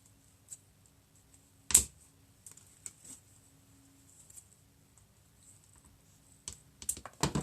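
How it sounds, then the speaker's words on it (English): Scissors snip the small knobs off a dried sunflower head, making a few sharp isolated clicks and cuts amid a quiet room, with a cluster of quick snips near the end. "take your sunflower, cut these little knobs off"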